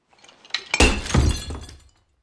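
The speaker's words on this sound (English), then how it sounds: "you've smashed the candle of truth" A glass candle is smashed, giving one loud sharp crash followed by a brief scatter of shattering fragments that dies away within two seconds.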